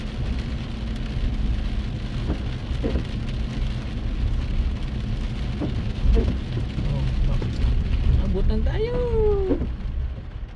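Heavy rain in bad weather makes a steady, loud hiss, with traffic rumbling beneath it and a brief rising whine near the end.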